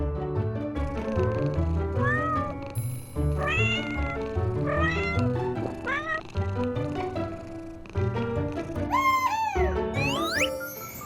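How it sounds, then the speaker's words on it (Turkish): Several cats meowing in a lively run of repeated, overlapping meows, some rising and drawn out, close and fairly clear, with faint tinkling in the background and no one talking. "Kedileri besleyebilir miyiz lütfen?"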